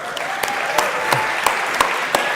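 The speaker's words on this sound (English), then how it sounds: "can I please get a warm round of applause for Fernando" Audience applause at a business venture event, a fairly even wash of clapping with several sharper individual claps standing out at regular intervals.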